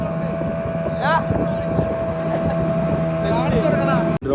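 The Al Buruj motorboat motors across open sea, its engine drone steady and close, with wind buffeting and voices talking over it. A brief knock sounds near the end.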